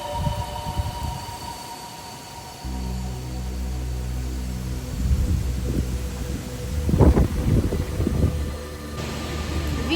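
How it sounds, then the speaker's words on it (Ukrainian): Gusts of strong wind buffet the microphone outdoors near abandoned hotels, rumbling and thumping unevenly over a steady low mechanical hum, loudest toward the middle. "вітер дуже сильно заважає знімати відео"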